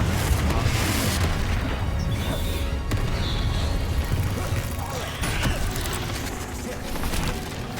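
A Confringo blasting spell explodes in the Hogwarts video game, a dense rumbling boom that rolls on for several seconds with further impacts mixed in, under speech.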